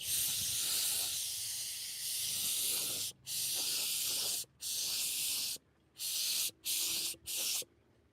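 Aerosol finish sprayed onto a chainsaw-carved wooden sculpture, loud steady hissing bursts: one long spray, then several shorter ones with brief gaps, alone with no talking.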